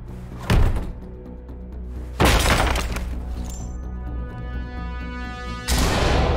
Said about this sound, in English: Stinger grenade.